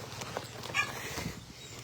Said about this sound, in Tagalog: Gwapo po rin mong kabayo, no?